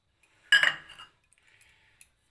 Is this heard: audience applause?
no